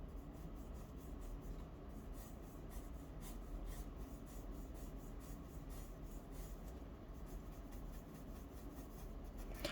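Pencil shading on paper being blended with a soft brush for a doughnut drawing, a quiet continuous rubbing and swishing texture with no talk.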